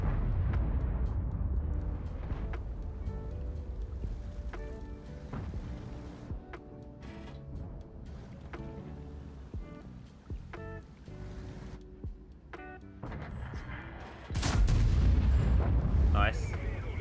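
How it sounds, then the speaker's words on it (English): Artillery fire in a tank video game: scattered deep booms and impacts across the battle scene, with one loud, heavy blast rumbling near the end, over a low, noisy game mix. "Artillery's doing a great job."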